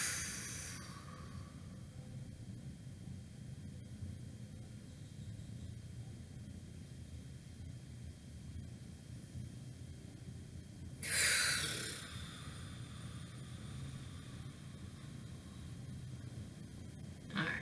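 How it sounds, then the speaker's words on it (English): Deep breathing during a deep-tissue lacrosse ball massage: a faint steady hiss runs throughout, with a sharp close inhale or snort at the start and another strong breath near the middle. "Breathe deep."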